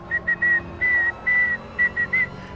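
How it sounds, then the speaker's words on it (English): Someone whistles alone: a run of about eight short and medium-length clear notes at a steady pitch, with small gaps between them, against quiet background hiss. "You'd actually whistle"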